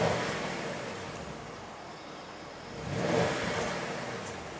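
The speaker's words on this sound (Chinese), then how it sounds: "我先踩一下油。" A 2019 Bentley Continental GT V8 idles in its normal drive mode, then the revs rise in a smooth, moderately loud swell from the cabin before easing back down.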